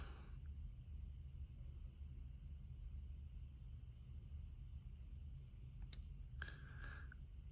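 A faint, sharp click or two from the thermostatic switch of a Weller TC202 soldering station rises briefly over a steady low hum in a quiet room.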